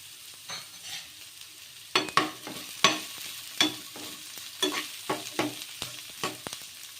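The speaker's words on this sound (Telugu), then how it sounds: "ఒకసారి బాగా కలిపేసుకుందాం" Chopped onion and green chili are stirred into a wheat rava batter in a bowl, giving a series of close, wet, scraping strokes in an uneven rhythm, with no talking over them.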